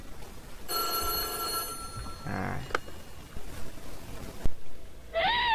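An old telephone rings in the horror video game White Day, a clear bell trill for about a second, then quieter tones and a single sharp tick, and a short warbling tone near the end.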